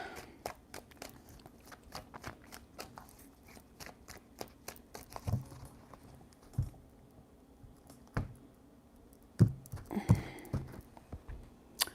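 A deck of tarot cards is shuffled by hand, giving quiet, irregular clicks and soft riffling taps that come in uneven bursts, close and fairly faint, with a few sharper snaps near the end.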